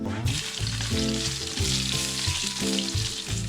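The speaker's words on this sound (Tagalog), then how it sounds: "Diyan din tayo magigisa. Babawasan natin yan. Ba? So, magigisa tayo sa mabilis na paraan." Garlic sautéing in hot oil for pinakbet gives a loud, steady sizzle heard close up, with a low hum underneath and occasional stirring.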